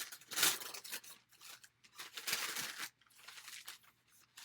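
Comics being unwrapped from bubble wrap and resealable plastic bags, with close, soft crinkling, tearing and rustling in irregular bursts, fairly quiet with short gaps.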